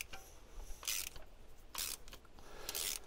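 Old spark plugs are worked loose from a 2000 Volkswagen Golf Cabriolet engine, with three short bursts of ratcheting clicks separated by quiet pauses, close and fairly soft.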